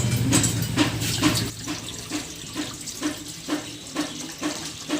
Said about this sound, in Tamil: இதில் வந்துட்டு 1 லிட்டர் அளவுக்கு வந்து தண்ணி ஆட் பண்ணிக்கிறேன்